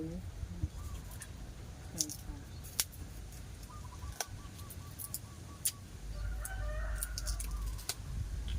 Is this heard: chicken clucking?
yes